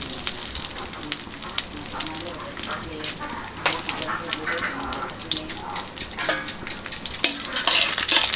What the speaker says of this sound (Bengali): এতে সরষের তেল দিয়ে দিই। লাউ ভাজিতে কালো জিরে ফোড়ন দিলে খুব ভালো লাগে